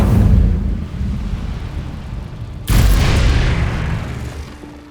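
An Incendio fire spell in Hogwarts Legacy bursts out with a loud, deep whoosh partway through, over a steady rumbling in-game background that swells as the flames roar on.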